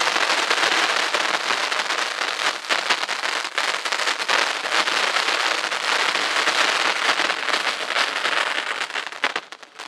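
Sivakasi 'Festival' firecrackers bursting in a long dense chain of rapid crackling pops that never lets up, loud and close for nearly ten seconds before cutting off.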